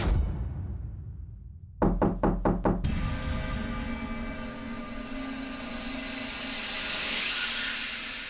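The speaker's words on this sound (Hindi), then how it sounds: "यहाँ तो कोई भी नहीं है, फिर नॉक किसने?" A quick series of about five sharp knocks on a door rings out close and loud after a moment of near silence, followed by a lingering hum and hiss.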